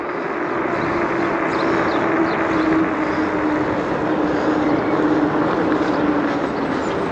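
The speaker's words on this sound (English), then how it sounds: "Just hear the motor a little bit, that's all." Steady hum of the 1000 W electric hub motor (1200 W peak) on an ENGWE X26 dual-battery e-bike while riding, with broadband wind and road noise continuous and loud throughout.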